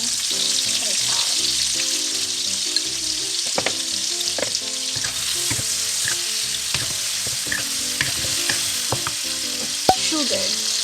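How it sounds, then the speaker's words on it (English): Tomatoes frying in hot oil in a pot give a loud, steady sizzle that runs the whole time, with occasional scrapes and knocks from stirring. "Heat the pot again. Oil again. Tomatoes in."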